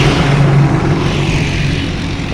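A lorry approaching along a rural farm road in Tamil Nadu, its engine a loud, steady broadband rumble close by; no clear horn toots stand out, and no one speaks.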